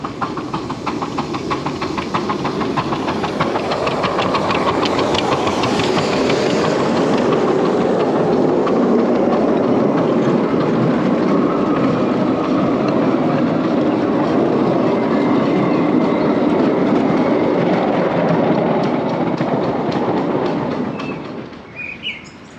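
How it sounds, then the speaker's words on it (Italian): A miniature steam passenger train runs through South Marine Park, a Victorian-style city park in England, with a loud, steady rumble and rhythmic clatter of wheels that continues throughout and fades out at the very end. "C'è anche il mini treno a vapore,"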